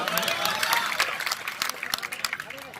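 Audience clapping bursts out at a comic political speech, irregular and fairly close, mixed with crowd noise and a speaking voice over the top.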